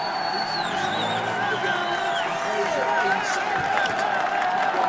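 A roadside crowd at the Tour de France buzzes with cheering, whoops and scattered clapping, a dense, continuous wash of voices at moderate distance.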